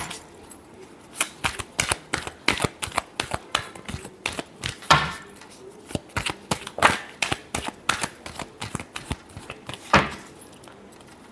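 A deck of tarot cards is shuffled over and over in quick riffling, slapping bursts, close and crisp, with uneven bunches of card flicks and no talking.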